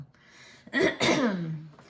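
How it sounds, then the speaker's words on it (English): A single throat clearing, close and fairly loud, with a harsh rasp followed by a short voiced grumble, no talking around it. "sorry, I keep having to clear my throat"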